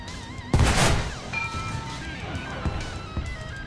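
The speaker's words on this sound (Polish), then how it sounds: "No, taki średnio udany ten strzał bym powiedział" A tank cannon on a Breda 501 in the game War Thunder fires once with a sharp, loud boom that rings briefly, and scattered engine and battle noise continues afterward.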